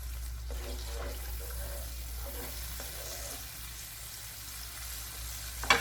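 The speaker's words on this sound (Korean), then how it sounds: "자, 넣으셨으면 이렇게 양념이 보글보글 끓어오르죠?" Japchae seasoning sauce of soy-based liquid bubbles and sizzles in a hot pan, a steady close simmering hiss with a few soft stirring knocks and a sharper clatter at the end.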